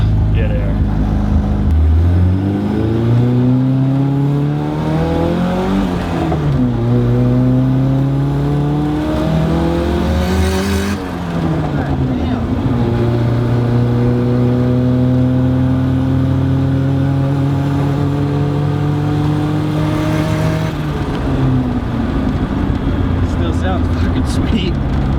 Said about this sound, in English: the wastegate makes it so loud